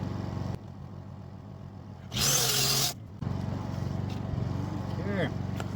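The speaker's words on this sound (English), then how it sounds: "Switch to the buffer." A power buffer runs during a quick makeshift tack-weld repair, letting out one loud, harsh whirring burst of under a second against a steady, low, engine-like hum.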